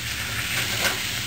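Chopped spare ribs sizzle and hiss steadily in a hot pan as they stir-fry, a close, continuous frying crackle with no talk over it.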